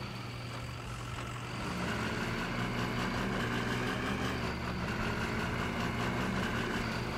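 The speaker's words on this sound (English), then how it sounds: "This truck sounds so good" A modded truck in the video game Snowrunner, referred to as the Good old 7-tree with an OBS mod, idles with a steady low diesel rumble that holds continuous and even, with no talking.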